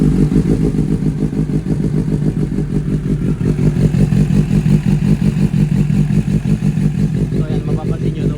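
A Suzuki GSX-S750 motorcycle engine idles steadily during an oil change, a close, continuous low throb with a fine mechanical clatter and no clear revving.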